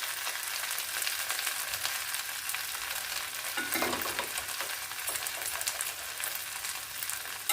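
Brinjal frying in ghee in a pan for a Coimbatore-style ghee eggplant lunch dish, giving a steady, close sizzle with a brief stirring scrape midway.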